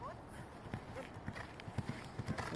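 A pony's hooves beat unevenly over a full-height 80 cm show-jumping course during a practice round, with soft, irregular thuds that sit low under a steady wash of outdoor noise.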